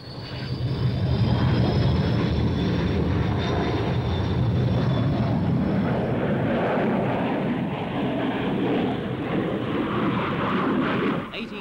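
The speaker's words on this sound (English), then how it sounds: "Onlookers get a very warm reception from the tail end of an RAAF Canberra." An RAAF Canberra jet aircraft roars from close behind its tail, a loud, sustained engine rush with a rising whine that holds steady before easing slightly at the end.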